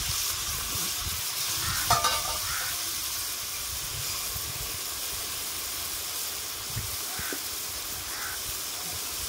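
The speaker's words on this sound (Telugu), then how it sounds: "బాగా ఉడుకుతున్నాయి నూనెలో." Food frying in hot oil for a home-cooked curry gives a steady, even bubbling sizzle that fills the whole stretch at moderate loudness, with a couple of brief clinks near the start and no talk.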